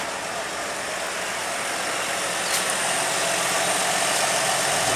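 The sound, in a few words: 2003 Nissan Maxima SE engine running at idle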